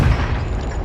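Confringo fire spell blast in Hogwarts Legacy, a single short deep boom with rumbling low end, loud and close, no voices.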